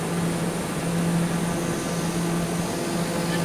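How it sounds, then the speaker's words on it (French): Steady droning aircraft engine noise with a low hum, constant and loud throughout, no talking. "Moteur d'avion."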